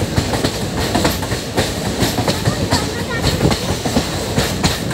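An Indian Railways train rounds a left-hand curve on a hill route, its wheels drumming in a loud, steady clickety-clack with sharp rhythmic rail knocks close by.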